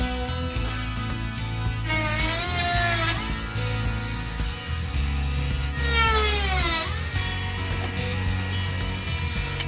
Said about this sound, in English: We're just gonna take an oscillating tool, multi-tool, and take off a couple mils off of the top of the middle knobs.